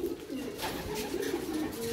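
Racing pigeons coo steadily inside a loft, a continuous low murmur of overlapping calls from several birds at close range with no speech.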